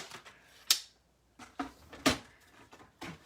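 Paper card stock being cut for a handmade butterfly card, a few sharp, separate clicks and snips spaced out over a few seconds, close and fairly quiet with no talking.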